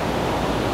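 A raging waterfall roars as a dense, steady, loud wash of rushing water, close by and unbroken with no voices.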